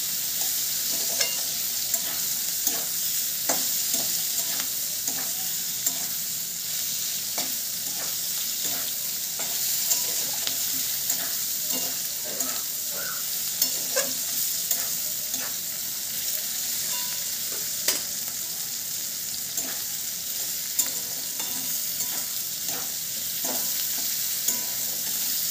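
Ginger paste frying in a pan for a Bengali prawn curry, with a continuous soft sizzle and repeated scrapes and taps from a stirring utensil all the way through, and no talking.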